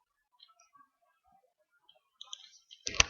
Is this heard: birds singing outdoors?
no